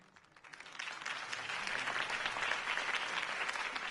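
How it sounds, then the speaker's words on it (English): A crowd applauding in Batman: The Telltale Series, steady clapping that swells after the first half second and holds at a full, even level. "could have heard that applause"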